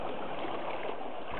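A river crossing point between Aska and Salohe villages in Sinjai, heard as steady broadband rushing water that continues without a break, loud and close, with no voices.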